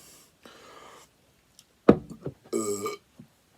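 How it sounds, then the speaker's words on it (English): A loud, close burp after drinking fizzy Heineken beer stands out after a few soft breathy noises, followed by a shorter gulping sound. "I felt like burping."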